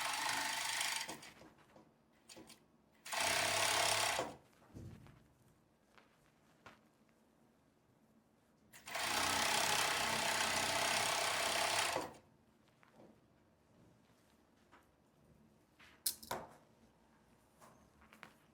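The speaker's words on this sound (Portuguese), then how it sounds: "agora a gente vai para a máquina costurar. Agora a gente vai costurar aqui essa lateral." A sewing machine stitches the side seam of a long casual skirt in two loud sustained bursts, one about a second long and one about three seconds long, with quiet handling and fabric rustle between them and a brief mechanical clatter near the end.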